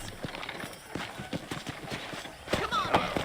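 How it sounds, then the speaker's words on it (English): Horse hooves clip-clop at a steady galloping rhythm in the video game Red Dead Redemption, fairly close and continuous, with game speech over them. "let's see if you can still ride a horse."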